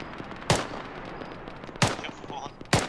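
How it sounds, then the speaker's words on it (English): Three sharp, loud rifle shots spaced well apart in the military shooter Arma 3, each a crisp crack over steady background noise and faint radio-style chatter. "That's a shot"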